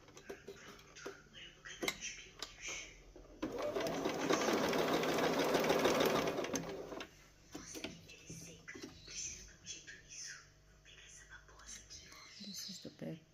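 A Bernina 1030 Swiss sewing machine runs a zigzag stitch in one steady rhythmic burst of about three seconds, close and fairly quiet, with soft speech before and after.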